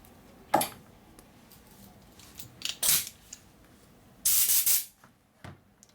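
Three short bursts of air puffed through a fine tip nozzle during 1988 Harley-Davidson FXR engine repair work, each a quick breathy hiss, with faint small clicks between and a longer final blow.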